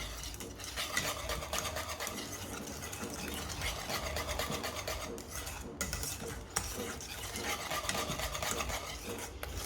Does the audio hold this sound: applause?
no